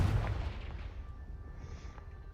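The Confringo blasting spell from Hogwarts Legacy, a fiery explosion in the game. It opens with one deep, loud boom that rumbles on and fades over about two seconds.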